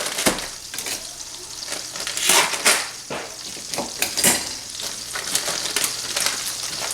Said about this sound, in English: so our butter's melted. Let's go ahead and add in our brown sugar